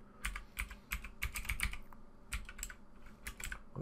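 Quick bursts of keystrokes on a computer keyboard, close and crisp, with irregular clusters of taps and short pauses between them.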